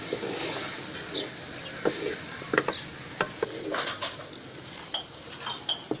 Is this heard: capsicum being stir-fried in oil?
yes